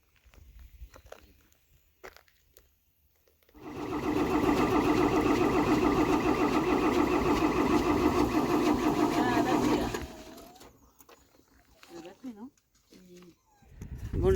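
A Mercedes truck engine cranks and struggles to start, a loud continuous churning that runs for about six seconds before cutting out, with quieter sounds and some talking around it.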